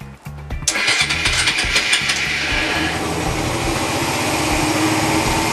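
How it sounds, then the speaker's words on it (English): A Honda motorcycle engine starts after a few cranking pulses, catching abruptly and settling into a loud, steady, close running idle with no talk. "That means the bike will start now, or should start now if I do this."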